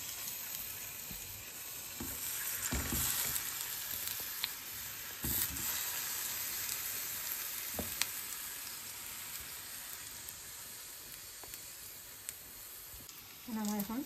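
Eggplant fries in hot oil, a continuous faint sizzle and hiss running throughout, with occasional knocks and a few utensil sounds near the end.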